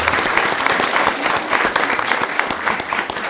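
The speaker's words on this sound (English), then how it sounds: "let's give him a round of applause and thank him again for his service" An audience at a county Board of Commissioners regular meeting applauds steadily. The clapping is close and fairly loud, with no speech over it.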